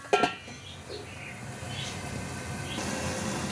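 A lid clacks sharply onto a pot of cauliflower and potato curry simmering in a little water, followed by a soft, steady hiss from inside the covered pot.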